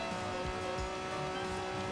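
A Ferrari races in Forza Horizon 4, its engine droning steadily at high revs with a continuous whine and tire noise, loud and close with no talk.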